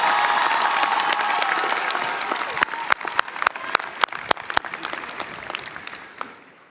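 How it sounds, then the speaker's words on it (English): Large commencement audience at a university undergraduate ceremony breaks into loud, sustained applause, a dense wash of clapping with sharp individual claps standing out as it thins and fades toward the end. "One more round of applause for Uncle DB."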